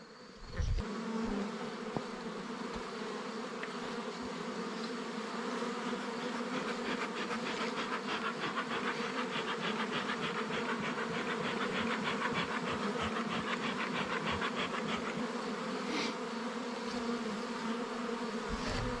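Hostile bees swarm around a hive entrance in fall, producing a dense, continuous, close buzzing that stays loud throughout.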